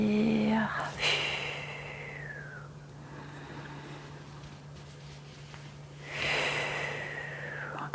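Slow, deep breaths during a guided relaxation exercise: two airy, close inhale-exhale cycles a few seconds apart, soft and breathy with quiet pauses between them.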